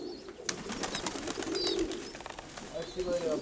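Pigeons coo in a loft, soft repeated calls mixed with other bird chirps and scattered clicks, while people talk nearby.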